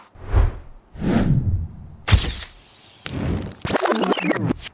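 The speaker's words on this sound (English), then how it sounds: "Transition sound effects." A sequence of transition whoosh effects: two soft airy swooshes, then sharper, brighter swishes with a crackling edge, each roughly a second long, loud and close with no speech.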